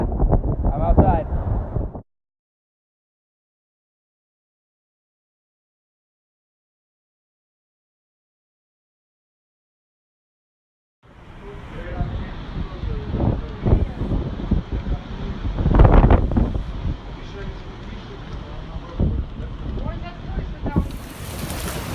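Strong gusting wind from Hurricane Irma roars outdoors in Miami, Florida, buffeting the microphone loudly in the opening seconds and again through the final half after a long silent gap, with a voice faintly under it.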